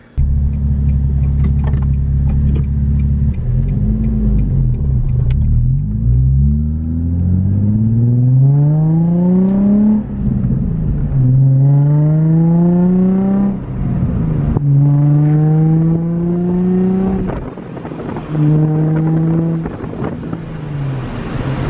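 A loud, raspy Nissan 350Z exhaust with test pipes revs hard and climbs through several gears, with the pitch rising again and again up close.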